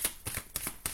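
Tarot cards handled and cut from a deck, several quick papery riffles and slaps in rapid succession, close and crisp.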